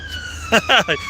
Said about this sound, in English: Right on cue. It could be a ambulance